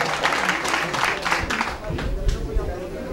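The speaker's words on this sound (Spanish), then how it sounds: "Fuertes aplausos para nuestro licenciado." Crowd applause at a classroom inauguration in the rural village of Tuixcún, Tajumulco, a steady wash of clapping with background murmur running through the whole stretch.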